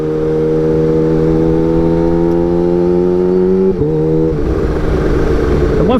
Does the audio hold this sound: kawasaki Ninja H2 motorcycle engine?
yes